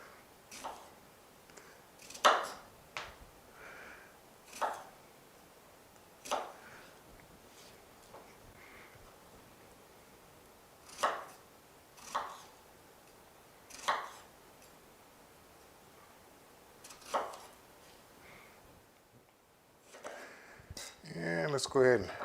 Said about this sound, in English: And as far as the strawberries are concerned, I'm going to go ahead and break these down as well. Here, I think just a rough chop is all you're really going to need.